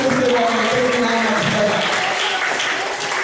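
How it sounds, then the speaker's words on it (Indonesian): Applause for a child named Ina at a guidance session for schoolchildren, with clapping mixed under a talking voice and children's chatter. "Tepuk tangan untuk Ina"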